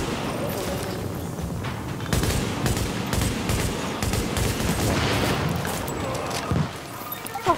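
Explosion and bursts of gunfire in the video game The Division, with dense rapid shots and a booming blast carrying through the whole stretch at steady loudness, mixed with faint game effects.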